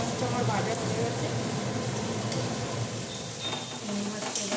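Prawns frying in a pan, a continuous sizzle with stirring scrapes, while a person talks over it.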